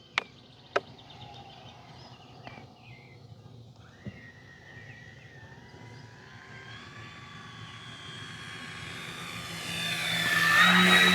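An E-flite Beechcraft D18 1.5 m twin-engine RC model airplane flies overhead, its electric motors whining faintly at first, then rising in pitch and growing steadily louder as it approaches, with a few sharp clicks near the start.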